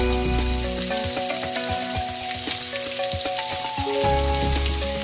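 Sausages fry in butter in a pan, a loud, close, continuous sizzle and crackle with some metallic clanks and occasional shifting, no talking over it.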